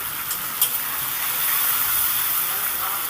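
Spice masala in a pan on a medium gas flame, sizzling and hissing steadily after water from rinsing the spice bowl is poured in, a broad continuous sizzle with brief brighter spurts.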